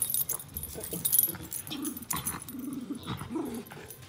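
West Highland Terriers play-fighting, with close, repeated low growls and scuffling yips in short bursts, alongside a faint jangle of keys.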